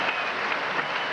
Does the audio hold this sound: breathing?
no